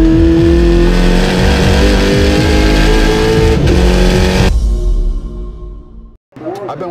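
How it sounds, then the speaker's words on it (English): A race car engine accelerates hard through repeated rising gear pulls, loud and close, with quick shifts, then cuts off abruptly before a brief revving burst at the end. "The general sense of speed and exhilaration that you get in a race car like that is unbelievable."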